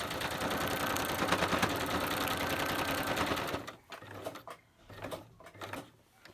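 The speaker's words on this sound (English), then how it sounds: "sewing machine would be happier. But it's still working." Sewing machine stitching through glued-down paper strips for a junk journal, a loud continuous rapid whirring run that stops, followed by short bursts of stitching and handling noises.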